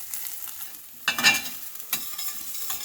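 Scallion whites fry in a pan for fried rice, a soft hiss broken by a couple of sharp stirring sizzles and scrapes, brief and close.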